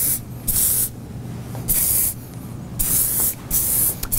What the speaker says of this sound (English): Use a little bit more of your spray to get that to blend right in.